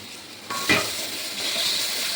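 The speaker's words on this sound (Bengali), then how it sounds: "এবার আর একটু মশলাগুলো একসাথে আবার নাড়াচাড়া করে একটু ভাজা ভাজা করে নেবো" Spices with salt, turmeric and tomato frying in a pan while being stirred, giving a steady close sizzle with a brief louder scrape of stirring near the start.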